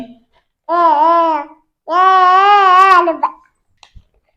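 A young girl pretends to cry in two drawn-out wailing bursts, the second longer, loud and close, followed by a couple of faint clicks.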